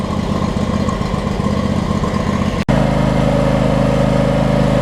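John Deere X300 lawn tractor engine running steadily after fresh oil and a fuel pump replacement, still burning off its mufflers; a loud continuous idle with a brief dip and slightly rougher, heavier tone after it, no talk.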